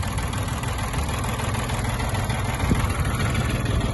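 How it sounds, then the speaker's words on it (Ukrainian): A well-preserved Japanese Mitsubishi MT-20 mini tractor engine idles smoothly and steadily with a constant low rumble and slight vibration, close by, with no voices. "Двигун дуже гарно збережений, працює чисто, приємно, з невеликим рівнем вібрації"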